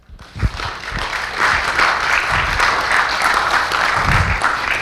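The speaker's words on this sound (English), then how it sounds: "Round of applause for Max." Audience at a speakers' club applauds a young speaker with steady, dense clapping that swells after the first half second and stays loud and even throughout, with a few low thumps near the start.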